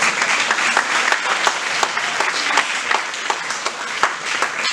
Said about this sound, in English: Everyone welcome him with a big round of applause.